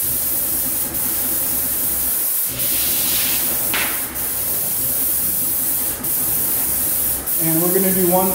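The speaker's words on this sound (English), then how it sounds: "And we're gonna do one really good heavy coat on this spray and back roll." An airless paint sprayer with a 619 tip sprays a heavy coat on an interior wall, giving a loud continuous hiss broken by short pauses between passes, with a voice and a brief whistling tone near the end.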